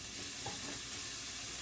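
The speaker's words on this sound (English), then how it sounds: "we're going to cook the onions until they get translucent" Onions sizzle steadily in a hot pan for chicken fried rice, a continuous hiss of frying with a brief soft scrape of stirring partway through, close and fairly quiet.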